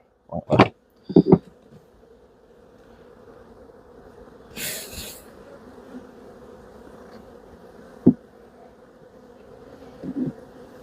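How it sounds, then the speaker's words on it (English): Honey bees from a massive hive colony hum in a faint, steady drone, broken by a few loud close thumps and rustles as frames are handled. "Shake these bees off."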